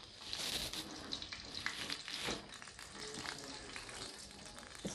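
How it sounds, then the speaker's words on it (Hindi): Oil sizzling steadily in a frying pan while chicken karahi is being cooked, a continuous dense hiss with bright crackle close up and no talk. "फ्राई पैन में, तेल को हल्का गरम कर लें।"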